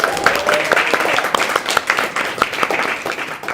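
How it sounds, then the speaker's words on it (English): A round of applause at a 2022 State of the District civic address greets Carla, dense clapping steady across the room at moderate loudness with no speech over it. "We have Carla, a big round of applause."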